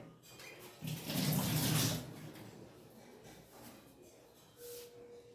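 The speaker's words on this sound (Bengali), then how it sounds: "এগুলো মাছগুলো সব ধুয়ে নিই" Tilapia fish being rinsed under a running tap, a burst of splashing water for about a second, then a softer steady trickle and light handling sounds in a kitchen sink.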